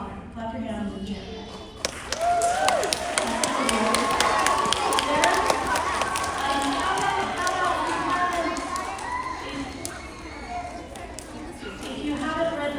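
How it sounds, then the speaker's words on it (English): Clapping and cheering from a crowd, largely children, at a school White Cane Day assembly, with sharp hand claps scattered over busy, sustained crowd noise and young voices. "Clap your hands in cheer."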